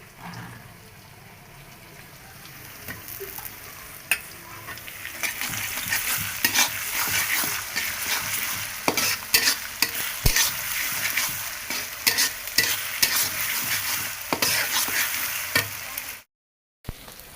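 Garlic, ginger and cumin paste sizzles in hot oil in a pan while being stirred, for a cabbage, carrot, radish, potato and shrimp dish; a steady close sizzle with scraping stirs grows louder, then cuts off abruptly near the end.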